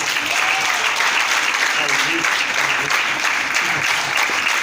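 A church congregation claps together in a continuous, dense burst of applause, loud and close, holding steady from start to finish.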